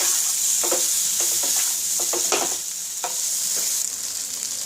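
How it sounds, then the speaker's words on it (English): Fried paneer cubes for a butter pepper paneer fry being stirred in a hot pan, with a constant bright sizzle and intermittent scraping clacks of the spoon, close and alone without voices. "We are adding the fried paneer to this."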